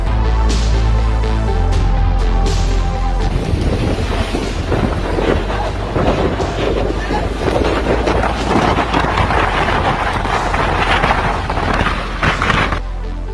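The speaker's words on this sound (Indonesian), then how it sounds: "Ombak besar dan angin kencang menghantam pantai" Strong wind roars and buffets the microphone over the heavy wash of large waves breaking on the shore at Cape Town, South Africa, loud and continuous throughout.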